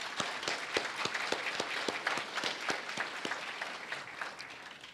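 Audience applause at a Tarrant County College law enforcement academy graduation ceremony, steady dense clapping from a crowd with sharp individual claps standing out, sustained at moderate level throughout.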